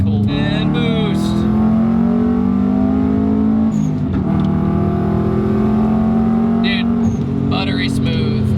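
Subaru WRX Bugeye with a boxer engine accelerating under boost: a loud, close engine note climbing steadily in pitch, with gear changes breaking the rise and turbo whistles over the top, joined by a speaking voice.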